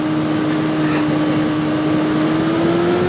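A car engine in Midnight Club II drones steadily at high revs, its pitch rising slowly as it accelerates, loud and continuous with no speech.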